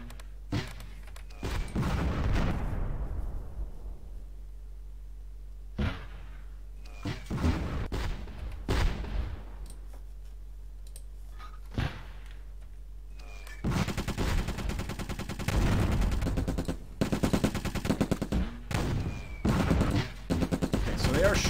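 Gunfire and artillery in the World War II game Close Combat on a German campaign map: bursts of rifle and machine-gun fire with heavy booms, broken by short quiet gaps before a long, sustained barrage near the end.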